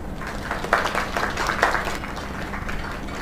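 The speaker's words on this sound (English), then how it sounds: "Another round of applause." Steady crowd applause in a video game, with scattered clap peaks, moderately loud and continuous throughout, with no talking over it.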